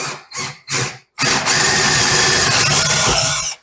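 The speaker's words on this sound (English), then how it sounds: "Grab the biggest drill bit I've got with me." A power drill fitted with a large bit whirs loudly and steadily for a couple of seconds, preceded by three short bursts as the trigger is pulsed, close up, while installing a laminate countertop.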